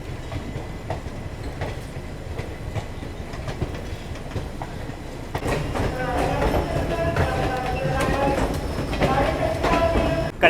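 Shalimar Express from Jammu Tawi bound for Barmer runs on the parallel track beside a moving Garib Rath Express nearing New Delhi, a steady loud rumble with rhythmic wheel clatter that swells midway as the passing train grows louder.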